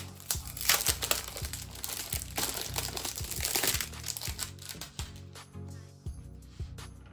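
A plastic packet holding a secondhand Motorola G13 phone is handled up close, giving a run of sharp crinkles and crackles in irregular bursts that thin out toward the end, with no voices.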